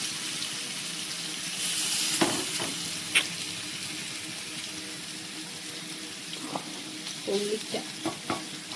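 Kerala-style fish frying in hot oil gives a steady, close sizzle and hiss, with a few sharp clinks and stirring scrapes near the middle and end.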